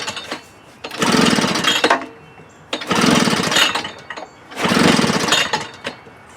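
A Husqvarna backpack leaf blower engine, choked and fuel-fed, fires up in three separate loud bursts of roughly a second each, sputtering and dying back to quiet between attempts.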